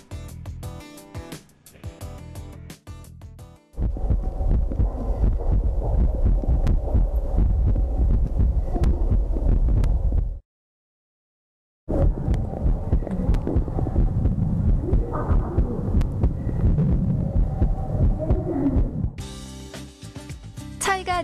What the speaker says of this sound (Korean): 같은 장소, 같은 체험을 하는 두 친구의 심장소리를 듣고 차이를 확인해 보겠습니다.